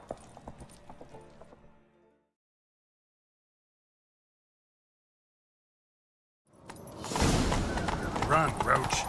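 Hoofbeats clatter in a fast, loud gallop in The Witcher 3: Wild Hunt after a short burst of activity and a long silent gap, with other game noise mixed in.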